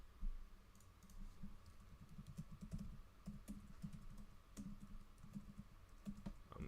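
Typing on a computer keyboard, a steady stream of quick soft key clicks with occasional sharper taps, close and fairly quiet, continuing throughout with no talking.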